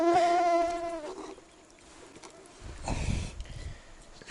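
Mosquitoes whine close by in a camp at a Siberian taimen river, a thin droning buzz that is strongest at first, then fades under rustling and handling noises.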